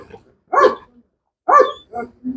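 Max, a dog in training, gives two sharp, close barks a second apart, followed by shorter yips and whines in an otherwise quiet room.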